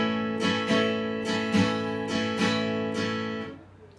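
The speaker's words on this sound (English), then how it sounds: "When you play in a swing rhythm, it will sound like this." Plectrum-strummed guitar chords played in a swing rhythm, close and moderately loud, with uneven long-short strokes ringing over about four seconds before fading.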